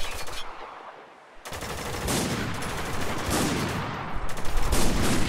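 Machine gun fire in Spec Ops The Line multiplayer, heard as loud sustained automatic bursts of rapid gunshots that pause briefly and then resume continuously.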